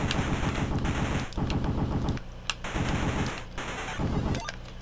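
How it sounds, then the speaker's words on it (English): Dense, relentless gunfire from The Punisher NES video game, rapid rattling bursts with a brief lull midway, loud and alone with no talk. "right now I'm getting very severely shot"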